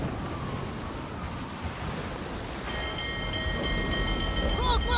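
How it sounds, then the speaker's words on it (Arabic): Stormy wind and crashing sea waves roar steadily in the Skull and Bones naval game, a dense broadband rush that swells slightly louder toward the end, with faint ringing tones entering partway through. "فالافضل انه نواجه هذا الريح العاصفة"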